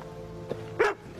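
A dog in a family film gives one sharp, close bark after a softer yip, loud over a quiet background.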